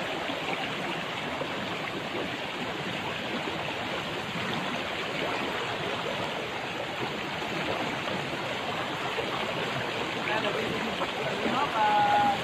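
A mountain stream near Lô Ba waterfall in Măng Đen, Kon Tum rushes in a steady, even wash of flowing water, fairly close, with no break across the stretch.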